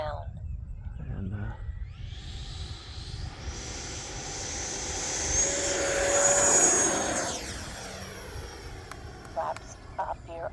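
An RC electric ducted fan jet model aircraft flies past with a rising whine and rushing roar that swells to a peak and then fades with a falling pitch, while people talk nearby.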